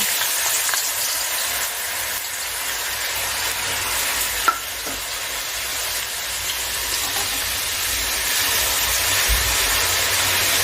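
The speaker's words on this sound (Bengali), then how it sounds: "এবার আমি আস্তে আস্তে আলুগুলোকে ভেজে নিচ্ছি" Steady, loud bubbling sizzle of thin-cut potatoes deep frying in hot oil, continuous throughout with a single brief clink partway.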